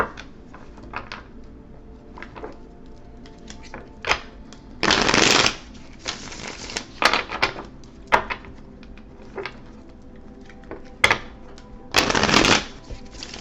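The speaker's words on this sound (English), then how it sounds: "Let's get some shuffling in here." Tarot cards are shuffled in several quick riffling bursts, with softer handling and tapping sounds between them, close up and without talk.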